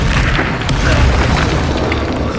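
A Confringo spell explosion in Hogwarts Legacy, a loud booming blast that fills the moment and rumbles on briefly, with no talk.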